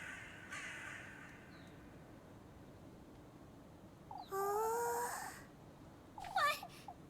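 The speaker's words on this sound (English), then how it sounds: "Oh, look at all the crows." Crows cawing in a video game, two bursts of harsh repeated caws, the first longer and the second a quick flurry, over quiet ambient background with no speech.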